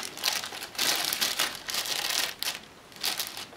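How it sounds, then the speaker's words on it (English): Plastic crinkles and rustles in several close bursts as a plastic bag is handled and pulled off the body of a Traxxas Summit VXL radio-controlled truck, with short pauses between. "So it's come with this plastic bag over the body."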